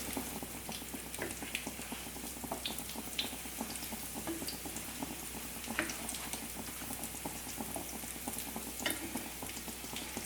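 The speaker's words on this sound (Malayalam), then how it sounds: "ഞാനിത് ഹൈ ഫ്ലെയിമിൽ വെച്ചിട്ട് തന്നെയാണ് ഫ്രൈ ചെയ്തെടുക്കുന്നത്" Hara bhara kabab fries in a pan over a high flame, giving a steady bubbling sizzle with small crackles and pops that holds at an even level throughout, with no talking.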